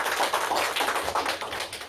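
Conference audience clapping to welcome the next presenter at a housing welfare conference: a continuous, fairly soft patter of many hands with slight swells, heard from some distance and without any talking.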